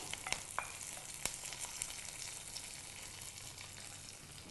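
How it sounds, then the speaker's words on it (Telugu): A hot tempering is poured into simmering amaranth-leaf dal, giving a steady, close hiss of sizzling that runs throughout with a few sharp crackles near the start. "ఇప్పుడు స్టవ్ ఆపేసి ఈ తాలింపుని ఉడుకుతున్న కర్రీలో వేసుకోవాలి"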